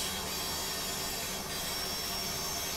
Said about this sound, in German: Dieses Kurvengeräusch, furchtbar.